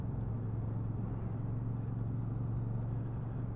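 A 2023 Royal Enfield Super Meteor 650 motorcycle's engine runs under a gentle, steady throttle, giving a continuous low, even rumble throughout without revving up, close and moderately loud, with no voices.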